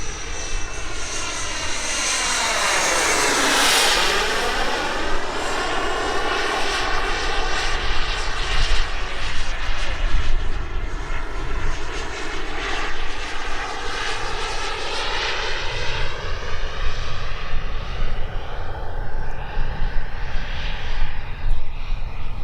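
A Sebart Mini Avanti RC turbine jet flies past and comes in to land, a loud, steady turbine whine with a Doppler sweep early on, then a sustained roaring hiss that stays close throughout.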